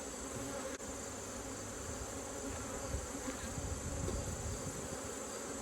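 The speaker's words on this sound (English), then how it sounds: "There has to be a queen in here because this is a pretty active hive, pretty productive." Honey bees buzz inside an active hive during a late-summer inspection, a faint, steady, close drone of many insects with no talk.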